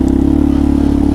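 Honda Hawk DLX 250 motorcycle engine under light acceleration, a loud, close, steady rumbling drone with a fast regular pulse throughout a short burst; no talk.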